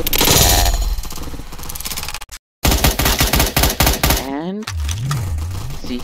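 Shotgun and other weapon fire in the video game Caliber, loud rapid shots clustered densely with a short gap of silence, mixed with a speaking voice toward the end.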